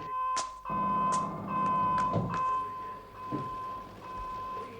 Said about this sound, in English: This is an internal security alarm.